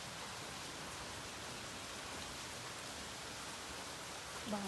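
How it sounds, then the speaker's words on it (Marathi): Heavy monsoon rain pours down outside, a dense, even roar of falling water that runs steadily throughout, fairly distant and without any talk over it. "एकदम धो धो पाऊस चालू आहे"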